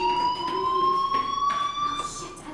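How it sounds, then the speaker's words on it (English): Fire alarm in the video game Life is Strange, a steady high electronic tone with a slowly rising pitch that sounds continuously and fairly loud. "Hey, do you hear that fire alarm?"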